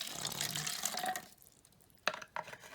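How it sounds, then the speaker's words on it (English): Hydrogen peroxide poured into a cup for a chemistry demonstration, a soft steady liquid pour that stops partway, followed by a couple of brief clinks or taps. "So I will place my hydrogen peroxide in this cup"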